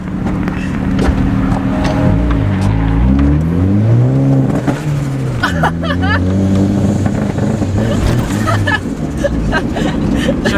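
Boosted Honda engine with an external wastegate revs hard and loud up close, its pitch climbing and falling in repeated sweeps, with a sharp fluttering burst midway and crowd chatter in the background.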